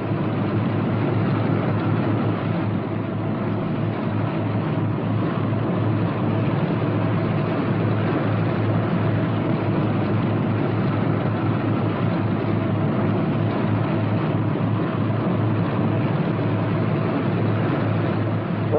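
A Northrop P-61 Black Widow twin-engine fighter taxiing, its piston engines giving a steady, dense drone with a low rumble that stays loud and even throughout, with no voices.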